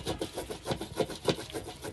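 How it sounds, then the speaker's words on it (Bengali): Boiled milk and coconut jaggery being rubbed and scraped in a pot to form grains, a soft rhythmic rasping repeated about every quarter second, close and quiet. "এভাবে করে ঘষে ঘষে বীজ উঠাইতে হয়"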